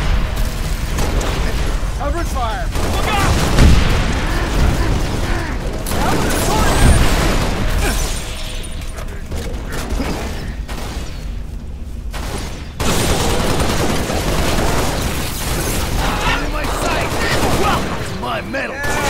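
Sustained covering gunfire in a Halo battle: rapid bursts of automatic weapons mixed with booms and explosions, loud and continuous under shouted voices calling out orders.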